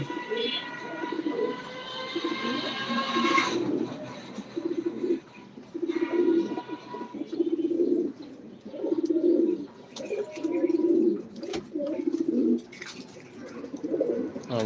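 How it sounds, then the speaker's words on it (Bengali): Many breeder pigeons in a loft coo in repeated low, throaty phrases, close and overlapping, with occasional higher chirps and rustling in between. "দেখেন আমার ব্রিডার কবুতরগুলো"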